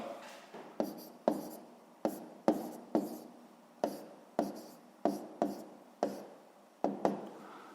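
Pencil or pen writing fractions by hand on paper during a sixth-grade maths exercise: a close, steady series of about a dozen short scratchy strokes and taps in an irregular rhythm, with no talking.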